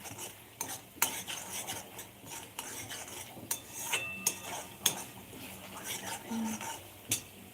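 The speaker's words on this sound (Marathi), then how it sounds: "असं थोडस तेल सुटोपर्यंत परतून घ्यायचं" Masala for matar paneer being stirred and sautéed in oil, a steady soft sizzle under repeated spoon scrapes and clinks against the pan, close and moderately loud, no talking.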